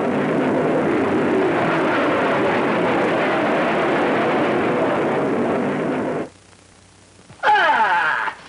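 An aircraft whooshing in to land in an old Christmas cartoon, a loud broad rushing roar that cuts out abruptly, followed by a short cooing bird-like burst.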